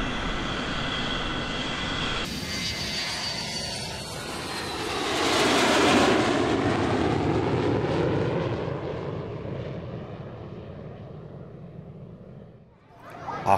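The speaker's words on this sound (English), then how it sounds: "After the plane had landed," An airplane engine drones loudly and steadily, swelling to a peak as the aircraft passes close and then fading away with a falling, sweeping tone before a sudden jump in noise at the very end.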